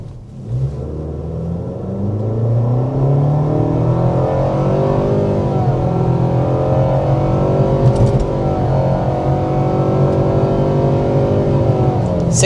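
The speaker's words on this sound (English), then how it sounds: "we want to go ahead and start with a hard acceleration" A 2025 Nissan Kicks accelerates hard, its engine note climbing in a loud, steady drone with rising pitch and a brief shift-like dip. The run lasts about twelve seconds, heard from inside the car with no talking.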